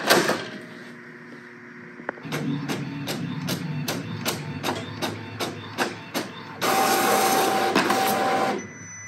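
Inkjet printer feeding and printing on DTF film with sublimation ink: a sharp mechanical clunk, then a steady run of rhythmic print-head passes with clicks, ending in a louder continuous whir of paper feed.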